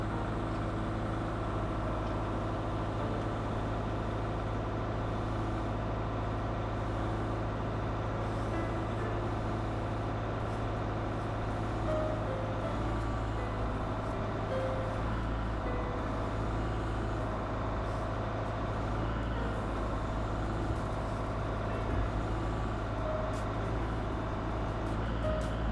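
A tractor runs continuously while pulling a felled tree up a wooded hill, giving a steady, low diesel drone that holds unchanged at a moderate distance throughout.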